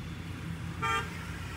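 A car horn sounds once, a short honk from behind in traffic on a road trip through Kazakhstan, over a steady low rumble of engine and road noise.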